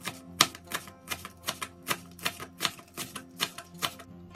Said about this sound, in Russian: Мелко нарезаем зеленый лук.